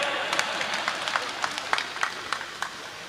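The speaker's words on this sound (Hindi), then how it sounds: "अरे भाई जी रे पीर आया ताली बजाओ" An audience claps at a live comedy show, with sharp, uneven hand claps popping out over a busy crowd murmur for a few seconds.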